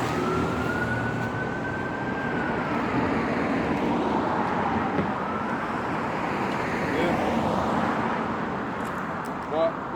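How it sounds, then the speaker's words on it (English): Road traffic roars past as car tyres hiss steadily along the road, with a thin rising and falling siren-like tone drifting through the wash of noise. "The tyres that you're hearing will overtake what you're saying."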